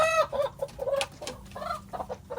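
Hens cluck repeatedly in a farm setting, a few nearby birds giving short, uneven bursts of calls with brief pauses between, no talking over them.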